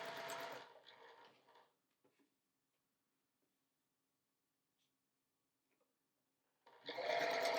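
A sewing machine stitches quilt pieces for a star quilt in fast rattling runs, loud at the start, then near-silence with faint clicks before a second burst of stitching.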